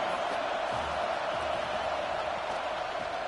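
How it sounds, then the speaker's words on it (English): Stadium crowd at a football game roaring steadily as the defense holds in the red zone, a broad sustained wash of noise with no distinct peaks. "the crowd coming to life here, trying to help this defense down in the red zone"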